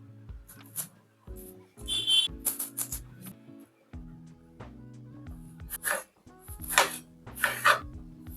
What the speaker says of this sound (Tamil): இதெல்லாம் இப்போ கட் பண்ணி எடுக்க போகிறேன்.